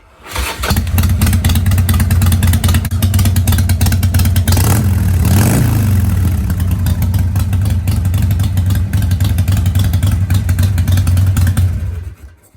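A Harley-Davidson Sportster 1200 Custom motorcycle fires up in a hot garage and settles into a loud, steady, throbbing idle close by, with a brief rev partway through before it cuts off near the end.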